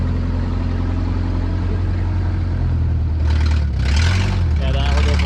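A 1987 Toyota pickup with a new exhaust and small manifold leaks runs with a low, raspy engine drone that stays steady and close, while someone talks over it.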